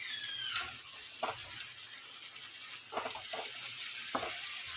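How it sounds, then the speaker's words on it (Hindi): Tomatoes fry in oil in a pan, giving a continuous close sizzle with a high steady hiss and several soft stirring scrapes at irregular intervals, with no talking. "और इनको हमने अच्छी तरह भूनना है।"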